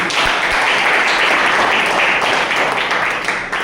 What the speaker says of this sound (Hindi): एक शानदार ताली।